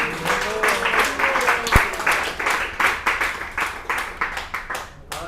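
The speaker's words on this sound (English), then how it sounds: "Let's all give Maharaj a round of applause." A temple audience in Orlando applauds, a crowd of hands clapping in uneven rhythmic bursts that pulse steadily, fairly close, with voices mixed into the clapping.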